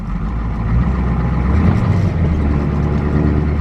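A 1983 Ford 6.9 IDI diesel 4x4 truck on the move, its engine a steady, loud low rumble that holds continuously with a dense, even drone and no talk over it.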